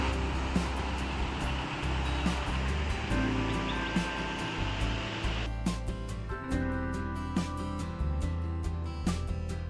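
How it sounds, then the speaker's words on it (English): Water pours steadily over a small dam at a hillside viewpoint near Thekkady, Kerala, giving a continuous broad rushing roar that stays fairly even throughout, with no voices. "This is like a dam more than a waterfall"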